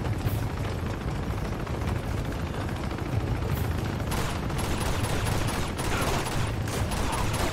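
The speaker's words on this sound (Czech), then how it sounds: "Je to střílí přede mě." Gunfire in the video game Uncharted 2: Among Thieves, dense continuous bursts of shots and explosions filling the whole stretch, loud and unbroken.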